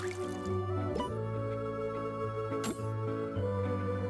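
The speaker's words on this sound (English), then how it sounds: "we still need to water that a bunch" Plants are watered in the video game Castaway Paradise, giving soft, faint drips and squishy liquid splashes over a gentle, sustained game music bed.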